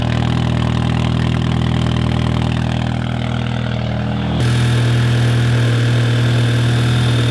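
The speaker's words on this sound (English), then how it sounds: "I always forget how goddamn loud my car is" An Audi A3 with the EA888 TFSI engine, just fitted with a catch can, runs loudly and steadily up close. Midway the engine note drops and settles into a deeper, even drone.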